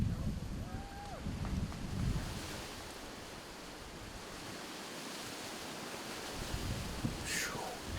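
Wind blows across an outdoor disc golf course, a steady broad roar buffeting the microphone with gusty swells, while faint voices and a passing whistle-like tone sit underneath.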